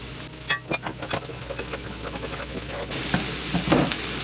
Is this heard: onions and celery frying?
yes